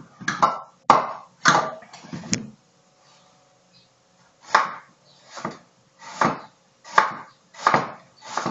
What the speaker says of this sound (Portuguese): Vou cortar um pouco de cebola.